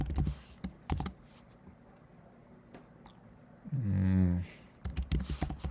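Scattered clacks of computer keyboard keys as Python code is typed, arriving in short irregular bursts with pauses between them, close and fairly quiet, with a brief louder squelchy rumble in the middle.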